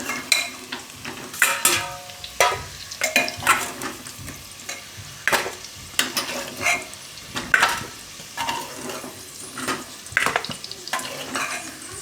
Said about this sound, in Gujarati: બટેટા તેલમાં શેકાય ને આ રીતના